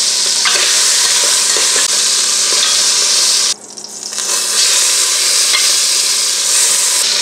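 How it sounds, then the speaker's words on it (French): Seasoned meat fries in oil in a pot for Creole consommé, a loud, dense, steady sizzle that briefly drops away for a moment midway before surging back; no voices. "si nous mettons un peu de l'huile dans chaudière viande là c'est frit"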